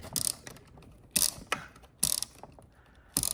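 Twisting the grind-setting dial on a Zwilling Enfinigy electric burr coffee grinder gives four sharp ratcheting clicks spaced about a second apart, close and alone with no talking.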